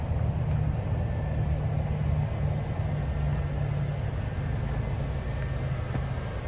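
A 2021 Nissan Kicks SR with a 1.6-liter naturally aspirated four-cylinder and CVT hums steadily with a low rumbling drone, heard close, even and continuous, with no talking.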